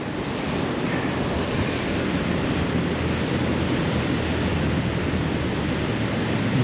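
Swollen water rushes steadily after heavy rain, a loud continuous roaring wash with no breaks and no voices.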